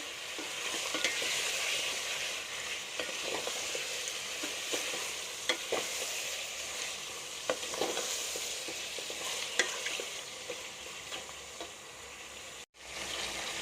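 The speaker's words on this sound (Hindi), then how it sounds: "इसको 2 से 3 मिनट के लिए भूनेंगे।" Garlic, ginger and green chilli paste sizzles steadily in a hot pan while a utensil stirs it with occasional scraping clicks, a continuous close frying hiss with no talk.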